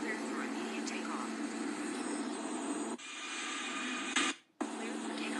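Boeing 777-300ER jet engines spool up for takeoff in the Infinite Flight game, a loud steady roar with a high whine that drops briefly near the end. Radio chatter runs over it.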